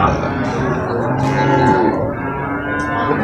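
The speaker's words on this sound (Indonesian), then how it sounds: "Sapi PO." Peranakan Ongole (PO) cattle moo at a livestock market in Purwakarta, several drawn-out lowing calls rising and falling close by over a busy crowd murmur.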